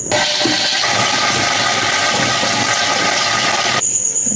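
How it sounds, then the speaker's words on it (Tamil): Wet grinder mashing spinach (mudakathan keerai) leaves for dosai batter, a loud steady whirring and churning grind that runs continuously for nearly four seconds, then cuts off abruptly. "இது கிரைண்டர் பயங்கரமாக சவுண்டு வருது"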